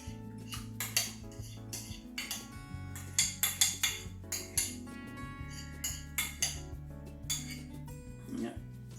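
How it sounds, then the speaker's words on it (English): Utensils scrape and clink against a salad bowl while mayonnaise is spooned in for a Russian salad, a series of sharp metallic taps and knocks over a low background hum, close and fairly loud. "now I'm gonna put this mayonnaise in there."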